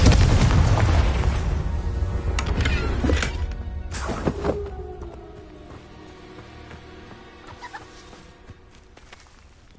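In Hogwarts Legacy, a Confringo fire spell erupts as a loud, roaring blast. A second sharp burst follows a few seconds later, then the rumble fades to a quiet, crackling tail.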